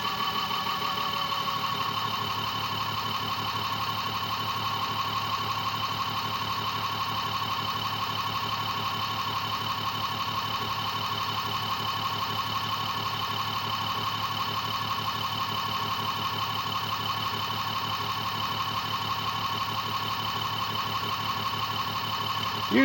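A steady engine idle, apparently a small engine powering a home off-grid generator setup, holds a constant low hum and drone at an even level throughout, with no speech.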